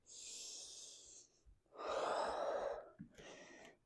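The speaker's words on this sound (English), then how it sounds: "Exhale it out." Three breathy exhalations during a pilates workout: a long airy breath, a stronger forceful one, then a shorter puff, close but very quiet.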